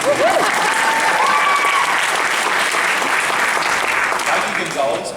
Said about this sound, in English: You can all applaud me for that if you like.